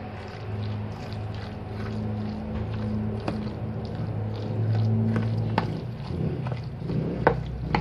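Steady traffic rumbles along the street in front of a house, with engines droning and a few vehicles passing near and far, plus scattered clicks and clatters nearby.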